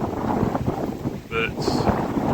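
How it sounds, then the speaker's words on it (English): Strong wind buffets the microphone on a sunny walk beside the Grand Union Canal near Market Harborough, a loud, continuous rumbling roar with gusty swells, interrupted by a few brief higher chirps. "It is very, very windy today"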